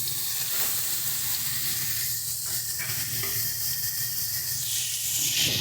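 Onion paste dropped into hot oil tempered with cumin and dried red chili, hissing and sizzling steadily, with occasional stirring and a brief louder spurt of spitting toward the end.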